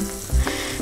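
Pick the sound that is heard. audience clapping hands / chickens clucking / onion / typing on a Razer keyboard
onion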